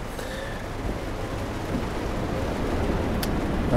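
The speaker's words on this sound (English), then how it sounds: "It's also raining" Steady rain in Euro Truck Simulator 2 on the drive from Praha to Ostrava: a constant, even hiss of falling rain with a low rumble underneath, gradually growing slightly louder.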